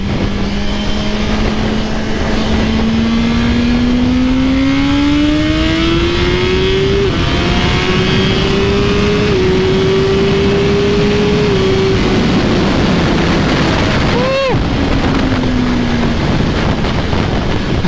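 A 2023 Suzuki GSX-R1000 sport motorcycle accelerates hard, its engine note climbing steadily through several gear shifts, then a brief sharp burst near the end as the pitch drops away; loud, close and continuous, with no speech.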